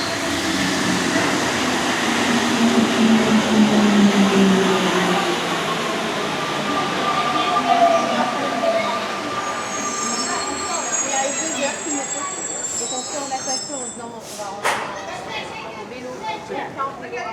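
A train pulls into a station in Paris with a loud rumble, long wheel squeals and screeches as it slows, followed by hissing and clanks as it stops, while people talk nearby.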